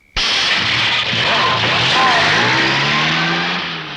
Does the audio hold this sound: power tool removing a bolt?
no